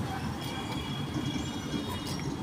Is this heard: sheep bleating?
no